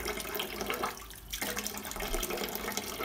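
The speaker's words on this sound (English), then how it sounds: "always open the water tap first" Hot water gushing from the tap of an instant water geyser that had trouble starting because of low water pressure, a steady close hiss with a brief dip in the flow partway through, with no talking.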